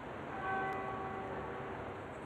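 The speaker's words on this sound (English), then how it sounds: "to the sound of a single bell tolling" A single church bell tolls once at dawn, its faint ringing tone lingering and slowly fading over a low, steady outdoor hum.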